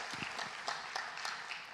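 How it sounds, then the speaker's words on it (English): A small church audience gives a round of applause for a guest speaker. The claps are sparse and fairly soft, with a few distinct sharp hits standing out over a light, scattered patter. "Oh, round of applause, okay."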